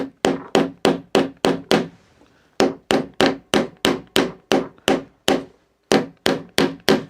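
A small upholstery-size hammer with a broken claw taps on a wooden picture frame being distressed, about twenty sharp, close, evenly spaced strikes in two quick runs separated by a short pause.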